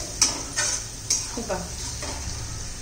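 Turmeric, cumin and red chilli powder sautéed in a pan for a spicy brinjal bharit, a soft sizzle under sharp spoon taps and scrapes against the pan, roughly five distinct clinks in quick succession.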